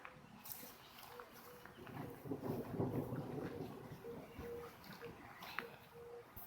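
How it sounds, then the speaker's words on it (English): Faint, distant thunder from an approaching thunderstorm near North Platte, Nebraska, rises to a low, drawn-out rumble midway through, over soft wind and outdoor noise. "I can hear real clear thunder."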